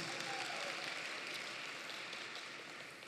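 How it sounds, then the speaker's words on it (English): Audience at the Alpharetta High School 2021 graduation ceremony claps in a steady, even wash of applause, fairly distant and soft, slowly tapering over a few seconds. "A round of applause for George Vladdy,"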